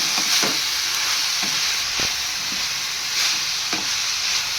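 Carrot and beetroot stir-frying with onion, a continuous close sizzle broken by regular spatula scrapes and knocks against the pan every second or so.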